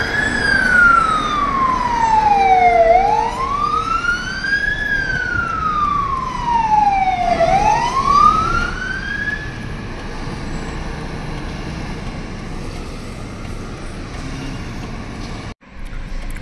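Fire engine sirens wail close by on a street in Saudi Arabia as the trucks arrive at a building fire, the rising and falling tone sweeping loudly over traffic noise before cutting off.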